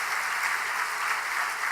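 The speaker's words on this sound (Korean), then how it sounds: "격려하는 마음으로 뜨겁게 한번 박수하십시다." Warm, sustained clapping from a church congregation during a Sunday worship service, a dense and even roar of many hands heard up close.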